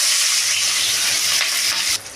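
Capsicum cut into tube-like pieces and chopped onion hit a hot pan for chilli chicken, giving a loud, steady sizzle and hiss that runs close and continuous before dropping suddenly near the end.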